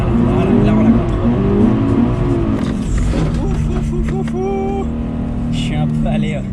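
A Toyota GT86 Blue Edition drifting on track, its engine droning and tires squealing in long wavering tones, heard from close by with someone talking over it.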